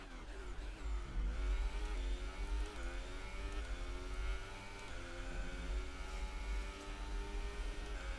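Formula 1 race car in a video game driving steadily, its engine whine holding a continuous rising and falling harmonic drone throughout, fairly loud and alone with no talk.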